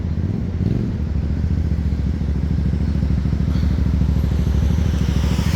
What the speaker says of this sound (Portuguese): Legal que o pessoal atravessa de moto pela faixa de pedestre.